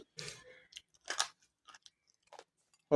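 Someone chews roasted chana dal, urad dal, toor dal and rice close up, giving a few scattered, soft crunchy bites separated by silences.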